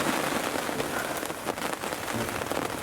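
Rain falling at a carp-fishing spot, a steady, dense hiss of drops hitting surfaces that stays close and even throughout, with no talk.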